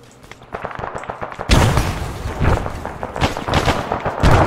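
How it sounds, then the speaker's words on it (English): A frag grenade goes off in the military shooter Arma 3, landing as a sudden loud boom partway through, with scattered gunfire crackling before it and continuing in rapid bursts afterward. Nobody speaks. "I'm gonna toss a grenade at him because I can't shoot him for some reason"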